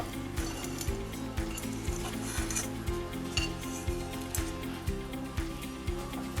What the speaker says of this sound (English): So now I'm just giving it a stir with it all mixed in.